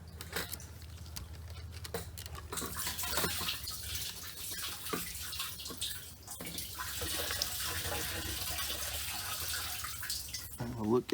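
Fuel drains from the tank of a Nissan Frontier in a steady trickling, splashing flow, fairly faint and close, with brief clanks and handling noises.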